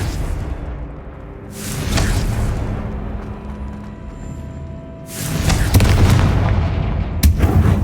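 In a Harry Potter video game, Confringo spell blasts boom repeatedly, with deep rumbling explosions and whooshing bursts that swell loudly, a sharp crack near the end.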